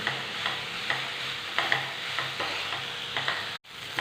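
Onion, green chili, ginger and garlic sauté in a pan for a chicken curry, a continuous soft sizzle broken by regular scraping strokes of a spoon stirring, close up, with a brief dropout near the end.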